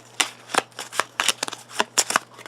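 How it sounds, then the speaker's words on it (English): A deck of game cards being shuffled at close range, a run of sharp riffling bursts and flicks spread across a couple of seconds over a faint steady hum. "Trying to shuffle these up so I don't know which one's which."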